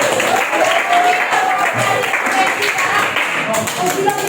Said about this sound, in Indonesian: tepuk tangan dulu buat Yogi